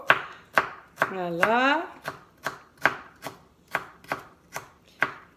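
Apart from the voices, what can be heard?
knife chopping ingredient into small cubes for coleslaw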